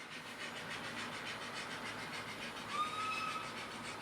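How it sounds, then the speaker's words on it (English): A little HO scale model steam engine runs along its track, giving a faint, steady rolling clatter and hum with a brief higher squeal near the end, with no voices. "he wanted to see how much power that little tiny steam engine had"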